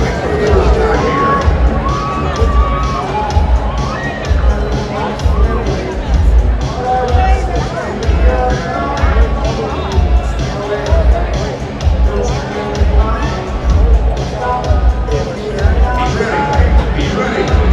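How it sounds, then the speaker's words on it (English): A rodeo crowd at the Calgary Stampede cheers and murmurs in a loud, continuous roar with rising whoops, while an announcer talks over it throughout. "when he nods, I want you guys to start the cheering"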